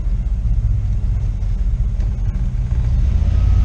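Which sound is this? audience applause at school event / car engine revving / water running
car engine revving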